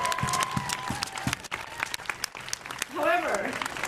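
A rally crowd applauds steadily with dense clapping, along with a few cheers and voices in the mix. Near the end a louder whoop or shout rises above the clapping.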